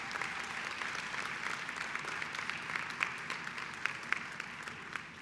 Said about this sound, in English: let's keep clapping as I introduce the Deans of Student Affairs